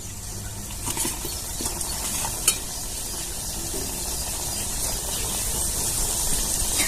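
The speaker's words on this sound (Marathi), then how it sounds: "सगळे असेच तळून घ्यायचे आपल्याला मस्तपैकी कमी गॅसवर" Chhena jalebi fry in oil over a low gas flame, giving a soft, steady sizzle with a few light pops and crackles.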